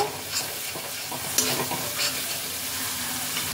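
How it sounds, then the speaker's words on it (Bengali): A spatula stirs cumin and coriander powder spice mix through hot oil in a pan for tilapia fish curry, with a steady close sizzle and several scraping strokes along the pan. "এই সব কিছুকে আবারও একবার ভালোভাবে মিশিয়ে নেব।"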